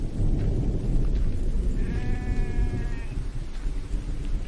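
A single sheep in the video game The Infected bleats once in a wavering, drawn-out call over a low rumbling background, moderately close.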